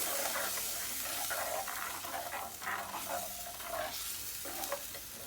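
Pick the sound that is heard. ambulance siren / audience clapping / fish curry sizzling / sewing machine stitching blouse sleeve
fish curry sizzling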